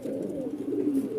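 Pigeons coo steadily in a main loft cage holding many birds, a continuous soft low warbling chorus close by with no talk.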